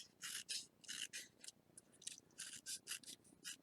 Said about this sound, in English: I am going to cut a piece of paper here